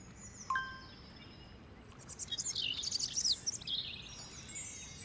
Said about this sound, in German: Man hört die Vögel zwitschern.